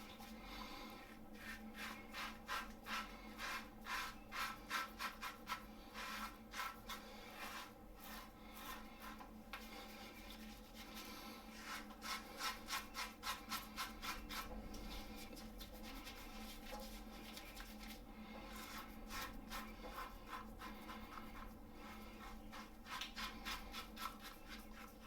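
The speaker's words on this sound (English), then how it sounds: "that's a really close, comfortable shave" A Natu razor scrapes across stubble in a steady series of short rhythmic strokes, soft and close, with brief pauses between passes and no talk.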